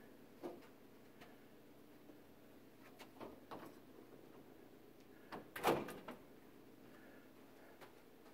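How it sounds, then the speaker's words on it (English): A door is shut inside a church building. A single sharp thud follows scattered faint knocks and handling noises in a quiet hallway. "I'm going to shut this door behind me."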